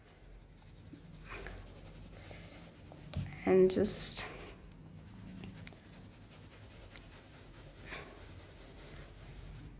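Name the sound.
pencil shading a drawing on paper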